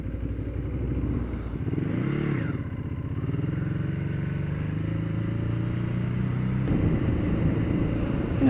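A Ducati Hyperstrada motorcycle being ridden, its engine droning steadily up close, rising and falling in pitch as it revs and shifts, with wind rush throughout.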